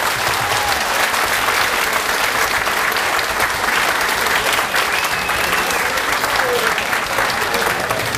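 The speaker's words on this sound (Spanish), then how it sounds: "Yo quiero que nos demos todos un aplauso," Loud, sustained applause from a crowd of employees at a company Christmas party, steady throughout with a dense clatter of many hands and a few faint voices mixed in.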